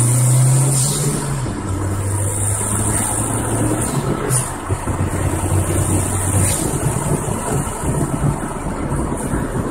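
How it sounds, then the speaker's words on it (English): A car fitted with a Spyder cold air intake drives along, its engine droning steadily and shifting pitch as it pulls, with loud intake rush and wind noise heard from inside the car, no talk. "here we go for a little bit of a sound test on the intake"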